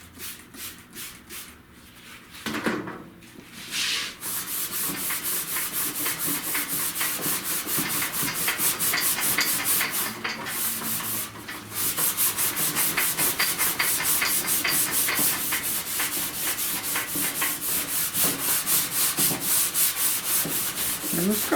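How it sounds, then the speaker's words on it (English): Rust is sanded off a car's lower fender in a continuous, close, abrasive rasping, with a few knocks and a couple of short pauses. "So just trying to get this rust off of here."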